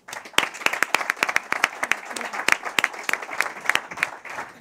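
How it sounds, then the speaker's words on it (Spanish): An auditorium audience at a university sports program presentation applauds to welcome a speaker, sustained moderate clapping with sharp individual claps standing out. "Un aplauso."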